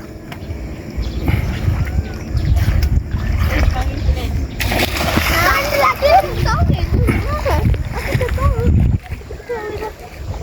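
Children bathing in Lake Toba, splashing water with excited kids' voices and shouts close by, continuous lively splashes and chatter throughout.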